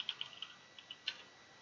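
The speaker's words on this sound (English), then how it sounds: "if I could type" Quick keystrokes on a computer keyboard, a handful of soft, close clicks in a short uneven burst followed by a couple of isolated taps, faint and alone without speech.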